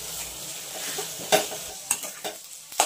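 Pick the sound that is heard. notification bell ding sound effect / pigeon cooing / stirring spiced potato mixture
stirring spiced potato mixture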